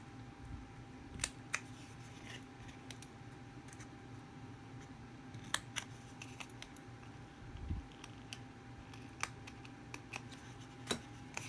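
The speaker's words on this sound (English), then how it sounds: "So you're going to cut along the edges here." Scissors snipping along the edges of a paper coffee cup box, sparse sharp little cuts spaced several seconds apart over a quiet room hum.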